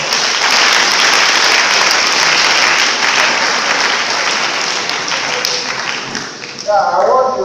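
A large crowd at a tourism day celebration claps in a loud, steady round of applause that holds throughout, easing slightly near the end before a brief surge with a voice rising over it.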